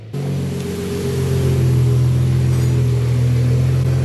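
A BMW car engine running close by, kicking in abruptly and holding a loud, steady, deep rumbling drone throughout.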